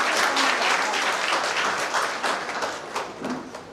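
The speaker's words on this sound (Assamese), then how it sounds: "সকলোৱে হাত চাপৰি বজাই ছাৰ" Applause from an audience at a 70th establishment day function at Balya Bhawan, Jorhat, sustained dense clapping that is loud and steady and then tapers slightly toward the end.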